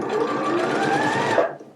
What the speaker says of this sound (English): You're going to sew to your pins and not over your pins.